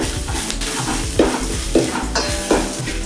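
Green chillies and turmeric powder fry in a pan with a steady, close sizzle, broken by a few sharp spatula scrapes and clinks as the mixture is stirred.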